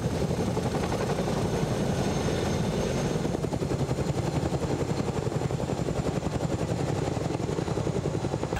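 A helicopter's rotor thumps in a fast, steady rhythm with a constant engine roar, loud and close throughout.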